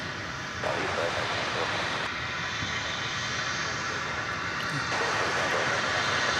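Steady engine hum from an American Airlines airplane at DFW airport, moderately distant, with voices talking over it.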